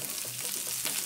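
Mustard seeds crackle and spit in hot coconut oil, a dense close sizzle with scattered sharp pops over a brief stretch.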